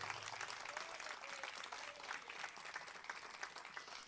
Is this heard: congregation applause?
yes